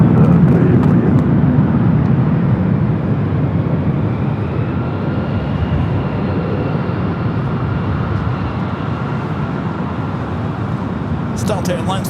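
Delta Airlines A350-900 pushing back at LAX, its steady broadband jet and engine roar filling the scene loud and continuous, with people talking over it.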